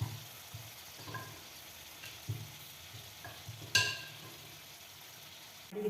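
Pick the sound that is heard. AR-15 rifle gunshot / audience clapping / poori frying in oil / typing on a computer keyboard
poori frying in oil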